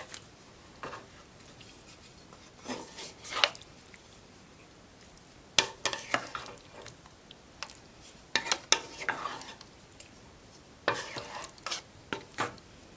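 A spoon stirs a meat and potato roast in a pot, giving several separate bursts of scraping and clattering against the cookware amid faint sizzling, with quiet pauses between.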